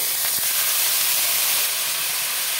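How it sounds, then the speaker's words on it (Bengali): Fried cauliflower, potato and a splash of water go into cooked masala, producing a loud steady steam hiss and sizzle up close, with a couple of faint knocks and no speech. "এবার দেবো ভেজে রাখা ফুলকপি আলুটা, অল্প জল দেব"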